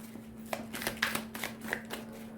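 Tarot cards are shuffled by hand in quick, crisp riffles and slaps, a close run of light irregular flicks over a faint steady hum.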